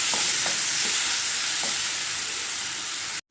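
An oil-free ragi and banana mixture sautés in a pan with a dense, close sizzle. A few soft stirring scrapes sound over it during a short burst that cuts off abruptly at the end.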